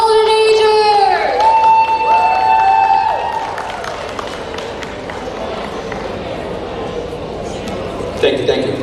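An audience at a community alliance launch event applauds and cheers, a loud crowd roar that starts at full strength and then eases. Music and voices sound over the crowd throughout.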